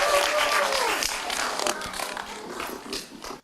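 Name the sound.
audience applause for volunteer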